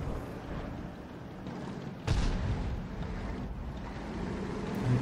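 Tank cannon fire in a tank video game, a single heavy low boom at about the two-second mark followed by a lingering rumble over a steady engine and battle background.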